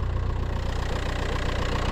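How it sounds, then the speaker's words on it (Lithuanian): Car engine idling with a suspected leaky intake hose drawing in air, a steady close rhythmic throb with a faint hissing wash layered over it. "Turi garsą, kaip, nu, girdisi, man rodos, kaip orą trauktų, kaip kažkur tai būtų kiaura."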